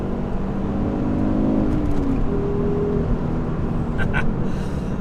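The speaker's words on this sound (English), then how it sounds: "I put my foot down in third gear. Third gear is a good gear, and it really does get going when you hit boost" Mk2 Ford Focus ST pulling hard in third gear, a steady loud engine drone with a whooshing turbo rising beneath it, heard from inside the car with no talking.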